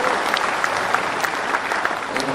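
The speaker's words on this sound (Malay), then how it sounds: "Kita berikan tepukan gemuruh kerana iltizam beliau bersama dalam kampanye" Thunderous applause from a large crowd at a Pakatan Rakyat political convention, dense and loud clapping that holds steady for the whole stretch, with scattered crowd voices underneath.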